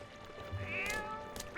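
A cat meows a single drawn-out time in the video game The Legend of Zelda: Twilight Princess, clear and close over a faint game backdrop, with no talking.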